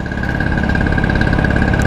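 Classic Vespa scooter engine running steadily during a night ride, a continuous loud hum and buzzing drone with a faint high whine, no talking.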